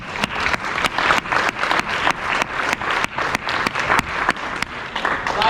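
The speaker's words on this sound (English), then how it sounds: "He deserves an applause for that." Audience applause after a community event speaker praises a county's first African-American mayor, a steady, fairly loud burst of many hands clapping with dense rapid claps throughout, no talk over it.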